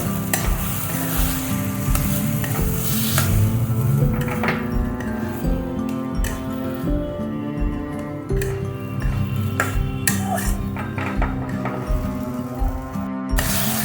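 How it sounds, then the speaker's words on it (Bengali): Mashed beans, potato, eggplant and tomato are worked together in a pan, with continuous scraping and stirring, light clinks of a utensil, and a steady sizzling bed underneath. "এইভাবে ভালো করে মিশিয়ে নেব আমি"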